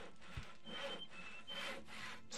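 Wood being sawn by a character in Gothic 2, a rhythmic back-and-forth rasp with four or five even strokes, moderately quiet and close, with no talking over it.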